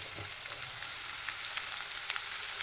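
Okra frying in a pan gives a steady, close sizzle with small crackles and pops over a constant hiss, and no talking.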